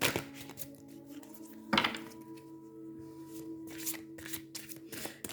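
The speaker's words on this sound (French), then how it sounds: "Je vais tirer une carte de l'oracle de Gaïa." Gaia oracle cards are shuffled by hand close up in soft, quick riffling bursts, with a few louder flicks and taps and a faint steady hum behind, with no speech.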